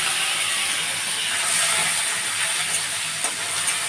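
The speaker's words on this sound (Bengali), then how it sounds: "চিংড়ি মাছগুলো একটু ভাজা হবে।" Shrimp fry in hot oil with mustard seeds, black cumin, dried chilli and bay leaf, making a steady, loud hissing sizzle that runs unbroken and alone.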